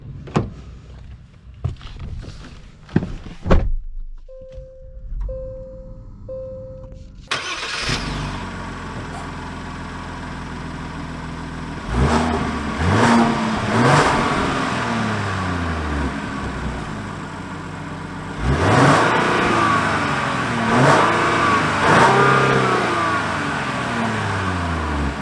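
A 2022 Genesis GV70 3.5T Sport Prestige SUV makes a few clicks and soft chimes, then its engine starts with a loud roar and idles. It then accelerates in two rising, revving surges, heard close from inside.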